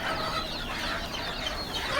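A flock of country-breed chicks and hens chirps and clucks continuously in a dense, overlapping chorus, close by, with no talking.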